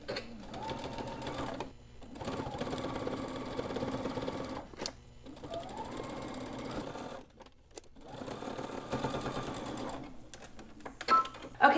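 A sewing machine stitching along a folded fabric edge, running in steady rapid mechanical bursts with brief pauses between runs, close and moderately loud.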